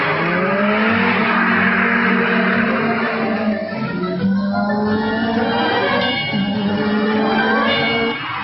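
A Mercedes-Benz 190 W201 with a 2.5-litre 16-valve engine races a BMW M3 Evolution at the Montlhéry circuit, its engine droning loud and steady as the pitch climbs and falls through gear changes.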